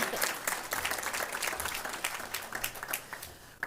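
A small group at a school board of education meeting claps steadily for a few seconds, close by and moderately loud, with no voices over it.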